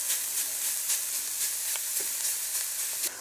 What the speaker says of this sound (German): da brate ich jetzt erstmal den Bacon drin an